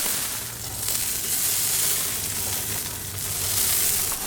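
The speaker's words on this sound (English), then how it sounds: "When it comes to sizzle and smell, these koftas have it all." Steady sizzling and crackling of lamb koftas cooking on a hot barbecue grill, a continuous close hiss with no voices.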